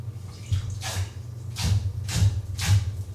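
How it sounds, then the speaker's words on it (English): Water is poured into homemade cake batter in a kitchen, splashing in four or five short, close bursts over a low background hum. "I'm gonna add some water."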